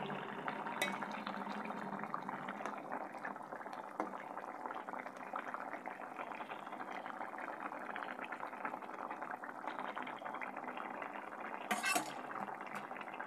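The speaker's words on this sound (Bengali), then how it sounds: "জাস্ট আর 2-4 মিনিট ফুটলে পরে নামিয়ে নেব।" Egg curry bubbling steadily in a pot, a continuous soft simmering hiss and burble with a faint clink of utensils near the end.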